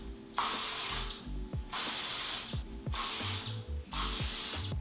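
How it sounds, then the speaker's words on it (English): A Fekai Volume Lock hair spray can sprays in four hissing bursts of about a second each, close and loud, with small clicks and rustles of hair styling between the sprays. "So I'm gonna grab my Fekai Volume Lock Spray and see what this can do for us as well."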